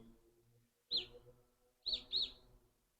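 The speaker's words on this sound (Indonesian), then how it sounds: "di Jepang mah lebih manuk gagak guys" Crows calling in Japan: three short, faint caws, one alone and then a quick pair, against a quiet background.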